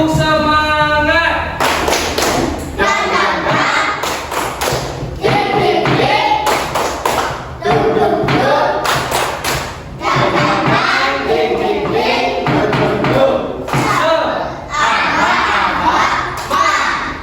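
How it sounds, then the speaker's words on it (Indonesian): A class of children doing the tepuk semangat clapping chant with their teacher, loud and close: rhythmic group claps and thumps interleaved with chanted and shouted voices, continuing steadily throughout. "Tepuk semangat."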